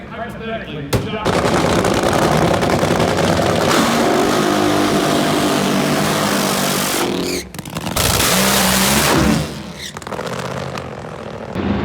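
A drag racing car launches from the line during qualifying at Gainesville, smoking its tires, with a loud, sustained engine roar that cuts out briefly and returns before fading, close to the listener.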